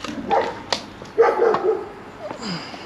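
Dogs bark near a building at an old silver mill, a few sharp separate barks with yips spread over the moment, fairly close and loud against a quiet background, no talking.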